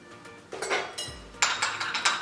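Pickles are mixed with chamoy and limon, producing a series of light clinks and taps from a utensil against a dish, several quick strikes spread over a couple of seconds.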